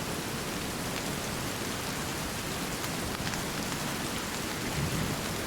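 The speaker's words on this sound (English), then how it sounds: "Oh yeah, it's raining." Steady rain falls in the Sons Of The Forest video game, a dense even hiss that holds level throughout, with soft distant thunder rumbling low underneath and no voices.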